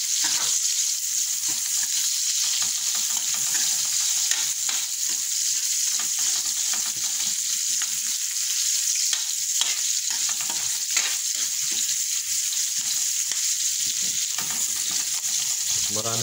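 Onions for kare-kare sizzle and fry steadily in a hot pan, a continuous loud hiss with occasional stirring scrapes, close by and without breaks.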